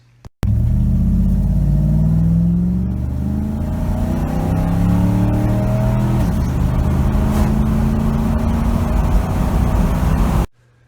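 A 10th-generation Ford F-150 pickup with 3.55 axle gears roars as it accelerates hard from 0 to 60 mph in about ten seconds, rumbling loudly and steadily climbing in pitch through the gears.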